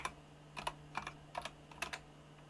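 Typing on a computer keyboard while entering a search into charting software, with quick clusters of light clicking keystrokes close up against a steady low electrical hum, no voices.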